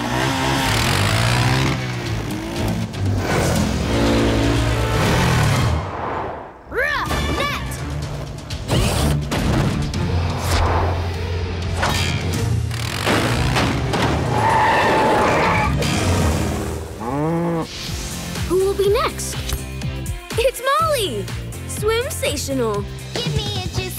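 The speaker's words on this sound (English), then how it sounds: "Chase, I'll take you over on my ATV." A small ATV engine whines and skids through a PAW Patrol cartoon scene, mixed with lively music, sound effects and cartoon character voices talking over it.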